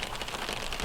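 Heavy rain pouring onto a surface, a dense, even hiss of countless drops, close and loud throughout the brief moment.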